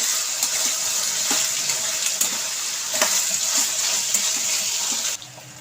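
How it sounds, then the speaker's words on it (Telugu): Thinly sliced potato pieces fry loudly in hot oil, a dense close sizzle with light scraping stirs throughout that eases off slightly at the end. "ఇప్పుడు సన్నగా కట్ చేసుకున్న బంగాళదుంప ముక్కలు వేసుకుందాం ఇలా వేసేసుకున్నాను కదా ఇలా కలుపుకోవాలి"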